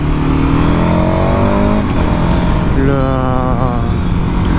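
A KTM 1290 Super Adventure twin-cylinder motorcycle engine revs up and down close by, rising and falling in two loud bursts with a throaty, steady growl underneath.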